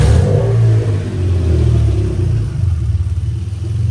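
A Toyota JZ engine running on a Link G4X ECU starts up close by and settles from a loud initial rumble into a steady, pulsing idle.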